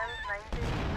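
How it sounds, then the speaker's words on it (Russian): Gunfire and explosions in GTA Vice City, with a strained, wavering cry at first, then a sudden dense burst of crashing noise that fills the second half and stays loud to the end. "Так, взрывы, крики."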